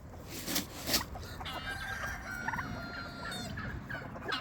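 Backyard turkeys gobbling and fowl clucking outdoors in the cold, a busy mix of bird calls at moderate distance over steady background noise, with no talk.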